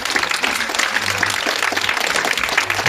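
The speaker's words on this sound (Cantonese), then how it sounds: "我哋再次俾啲掌聲送俾一對嘅新人。" A wedding crowd claps for the newlywed couple, a dense, steady burst of applause filling the room without a break.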